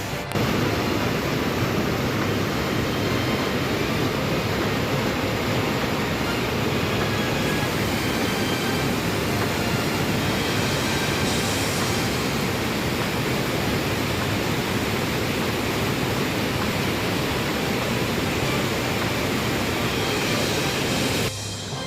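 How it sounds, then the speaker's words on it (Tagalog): Fast-rising floodwater rushing past near farmland, a loud, continuous broadband roar that stays steady and unbroken for the full twenty-odd seconds with no voices. "sa likuran ko guys, lakasan ng tubig. Pataas pa na pataas."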